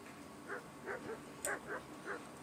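Several dogs bark in short, spaced yips and woofs at a moderate distance in the medieval game Kingdom Come: Deliverance, about six barks over a couple of seconds against a low ambient background.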